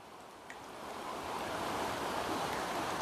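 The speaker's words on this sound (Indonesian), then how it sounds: "Kok saya seperti mendengar suara air terjun dari bawah sana lur." Steady rushing water heard at night near a cemetery with a large old tree, a continuous broad wash that swells slightly and holds constant, distant and alone with no voices.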